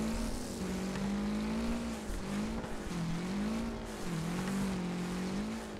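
Cars racing in the demolition-derby video game Wreckfest, a steady engine drone rising and falling with gear changes alongside tire squeal, close and continuous.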